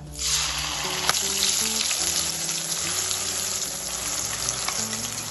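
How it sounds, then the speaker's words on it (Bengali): Spice paste sizzling loudly in hot oil with whole garam masala and cumin, a dense continuous crackling fry close by, with an occasional clink of a stirring spoon and no voices. "এবার তেলের সাথে মশলাটা কষিয়ে নেব।"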